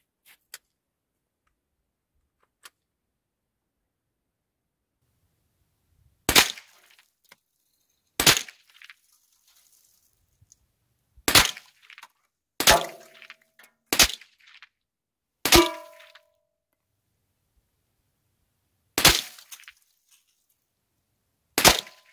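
A Marlin .22 rifle fired from standing at cans and targets gives about nine sharp, isolated cracks spaced a second or more apart, with quiet between shots.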